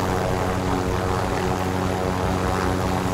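Rotor aircraft flying overhead, a continuous loud engine and blade drone with steady low throbbing that fills the whole span with no pause and no voices.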